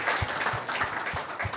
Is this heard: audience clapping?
yes